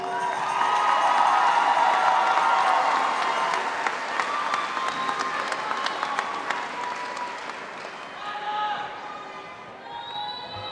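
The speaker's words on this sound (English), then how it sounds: "Please give him a round of applause." A graduation commencement crowd claps and cheers for a senior student, a dense sustained ovation that gradually thins out over ten seconds, with scattered shouts and voices mixed in.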